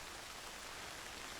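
Steady rain falls in a dramatic TV show scene, an even hiss of drops with no breaks, soft and continuous with no voices over it.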